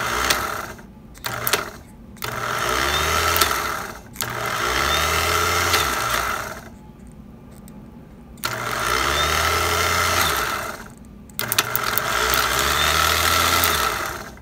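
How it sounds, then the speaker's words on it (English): A starter motor from a 1978 IH Cub Cadet 1000 tractor, clamped in a vise for a bench test, whirs in several loud, close bursts, spinning up and cutting out repeatedly with short pauses between runs. "we're gonna go ahead and bench test this starter"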